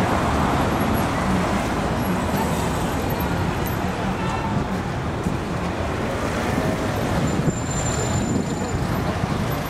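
Dense roadway traffic on the Champs-Élysées at Place Charles de Gaulle during a vintage car crossing of Paris, a steady loud wash of engines and tire roar with wind-like rumble and no distinct individual passes.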